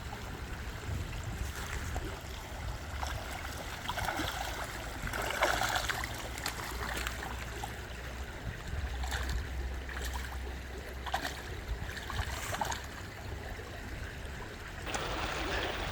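A small, tiny creek flows over rocks, giving a steady, close, broadband rush and trickle that continues throughout with occasional brighter splashing bursts.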